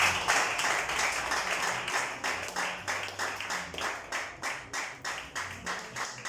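A church congregation claps for Jesus in a steady, even rhythm, with many hands striking together in regular beats that carry on without a break, and a faint low murmur sits underneath.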